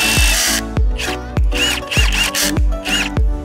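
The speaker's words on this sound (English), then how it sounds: "We just went out and bought the brand new high-powered Ryobi drill." A brand-new high-powered Ryobi power drill drives into wood while a cattle pen is built outdoors, revving in loud, close bursts, about six short whirring pulses separated by brief pauses.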